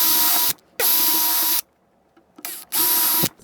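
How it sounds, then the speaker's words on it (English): A power drill bores a shallow pilot hole in wood for a model railroad leg spreader, with three loud high-pitched whirring bursts separated by short pauses. "So I'm going to drill out here first."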